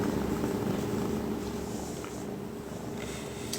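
A large Maine Coon cat purrs steadily and close up, a continuous low rumbling hum with no talk over it.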